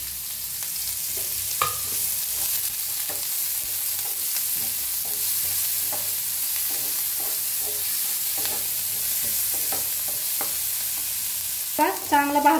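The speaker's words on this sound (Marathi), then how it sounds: "तर कांदा भाजून घेऊया आपण" Onion frying in a pan for a bitter gourd dish, a steady close sizzle with intermittent soft stirring scrapes and a brief clatter near the end.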